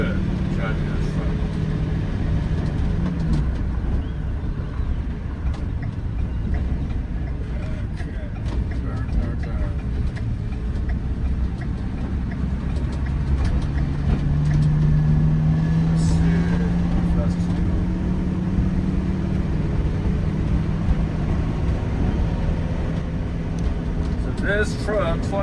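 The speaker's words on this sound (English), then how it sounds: "Feels good driving this truck." A 20-foot U-Haul moving truck drives through town, its engine a steady low rumble with road noise, heard from inside the cab under ongoing talk.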